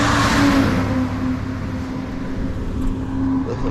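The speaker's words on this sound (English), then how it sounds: "look at that lorry that's coming. Look, check it out. This is a hill, this downhill." A big lorry drives downhill on a road, its engine a steady low rumble with a faint whine throughout, loud and fairly near, with no talking.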